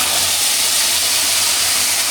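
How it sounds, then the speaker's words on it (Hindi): Tomatoes and onion sizzle in hot oil for a dal tadka, a steady loud broadband hiss with a low rumble underneath and no talking. "तो मैं अब दाल को तड़का लगा रहा हूँ जी"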